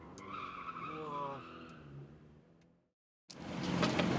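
Reckless cars drifting on the Yumeshima roads in Osaka: a loud, sustained tire squeal and skid with engine noise, a brief moment of silence, then a harsh burst of roaring noise.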